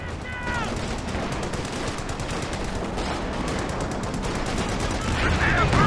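Machine gun fire in the World War II strategy game Company of Heroes 2, a dense continuous rattle of rapid bursts over battle noise, steady and loud throughout with a whistling sound near the start.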